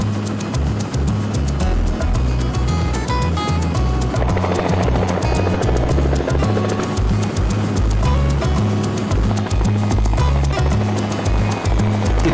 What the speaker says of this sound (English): takes the chopper 12 miles into the jungle